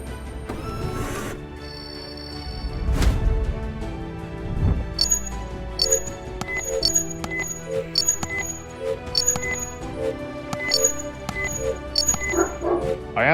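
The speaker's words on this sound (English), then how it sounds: "Wow, they are barking like crazy." Dogs barking repeatedly in the video game Criminal Case, a run of sharp yips and bow-wows over a busy musical game backdrop, loud and persistent throughout.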